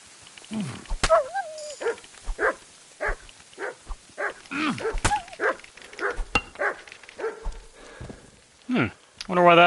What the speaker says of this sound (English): I was wondering why I was hearing a dog.